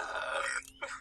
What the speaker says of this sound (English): a burp caught me by surprise halfway through, and so it turned into just a loud burp video